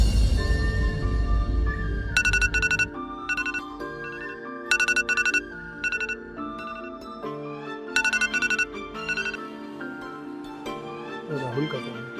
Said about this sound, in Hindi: राहुल का फोन